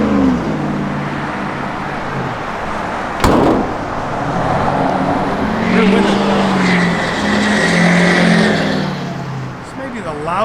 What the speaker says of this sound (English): This may be the loudest this road has ever been.